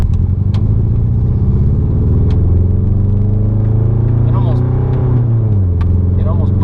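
A car engine drones loudly from inside the cabin, the low rumble sagging and dropping in pitch as it nearly bogs down and stalls, with a voice speaking over it.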